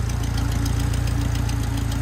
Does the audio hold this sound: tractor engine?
yes